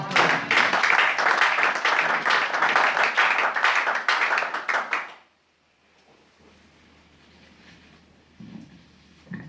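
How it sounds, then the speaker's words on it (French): A church congregation at a French-language sermon bursts into loud, dense clapping and acclamation for about five seconds, then it stops abruptly, leaving a quiet room with faint rustling. "Est-ce qu'on peut acclamer le Seigneur Jésus?"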